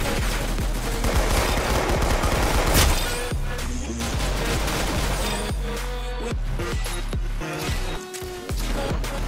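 Rapid gunfire in the Roblox game Arsenal, with bursts of automatic fire and single loud shots crackling close and continuously, a few heavier impacts scattered through.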